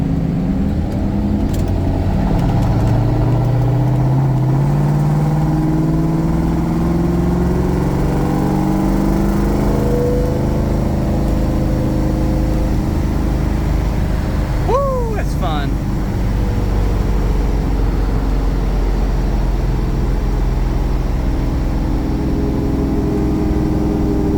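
A 1971 Ford Mustang Mach 1 with a 429 Super Cobra Jet engine accelerates hard, its loud, close rumble rising steadily in pitch before settling into a sustained drone, with a couple of brief chirps near the end.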